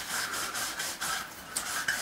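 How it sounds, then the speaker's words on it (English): Steady back-and-forth rubbing of fine wet sandpaper on a bronze cylinder barrel, quick rhythmic strokes with a soft wet rasp, close up. "it gives you a very sort of fine, lubricated sanding effect"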